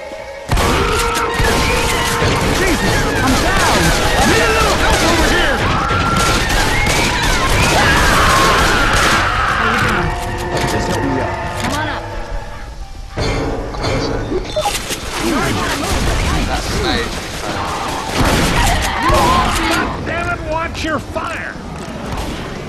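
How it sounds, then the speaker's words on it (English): Shotgun blasts and gunfire in the zombie shooter Left 4 Dead ring out loud and close in a dense barrage, with booms and crashes layered under game voices and chatter. "Shotgun."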